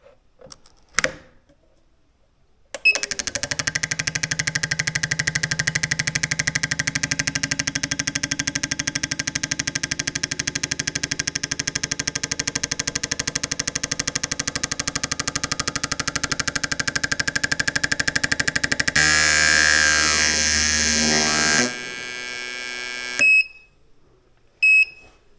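A Hunter Tuned fuel injector on a flow test bench, injector 2, runs as a loud, steady buzzing drone for about twenty seconds. Its pitch shifts partway through, and it ends with a few short clicks and beeps from the bench.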